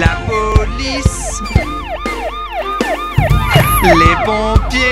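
Rapid wailing sirens sweep up and down repeatedly over busy, cluttered background noise with sharp knocks and bangs, like a toy or cartoon siren.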